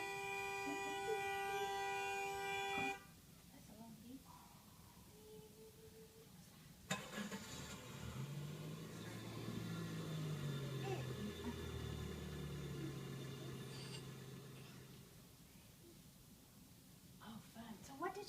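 A played recording of car sounds in a children's listening lesson, with a short tonal beeping burst at the start, then a car engine and passing traffic, and a person talking throughout.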